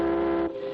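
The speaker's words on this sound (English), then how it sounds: "Give her 2 more short blasts, Spinner, to let the other fishermen know we're going out." A short, steady whistle blast from a fishing boat in a cartoon harbor village, loud and close, cutting off sharply.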